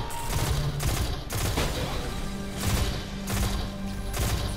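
Gunfire in the video game Destiny 2, a series of heavy, booming shots in clustered bursts with rumbling tails, loud and close, amid the game's layered combat sounds.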